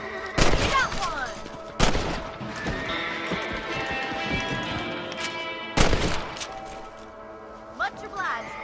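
Rifle shots at rabbits in Red Dead Redemption: a few loud, sharp cracks spaced seconds apart, with horse whinnies and clip-clop hooves and a voice speaking between shots.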